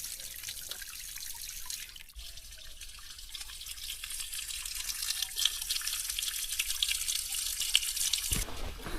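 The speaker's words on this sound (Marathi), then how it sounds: "आम्हाला आता इथे ना एक वॉटर स्ट्रीम बघायला मिळतंय" A cold mountain stream at Padargad fort rushes and trickles nearby in a steady, hissing flow, with no talking.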